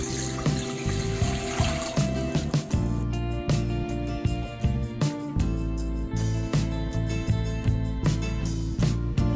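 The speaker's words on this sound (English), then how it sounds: "taking a pan and we'll add some water to the pan." Tap water pours into a cooking pan for boiling noodles, a loud continuous gushing stream with a rising filling tone and a steady mechanical hum beneath it.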